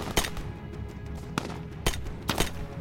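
Covering fire in a wartime battle scene: four sharp, separate gunshots ring out at uneven intervals over a low rumbling background, loud and close.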